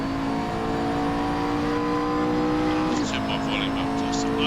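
GT3 race car engine from a racing game, a steady high-pitched drone held through a lap with a gear change near the end, under continuous commentary.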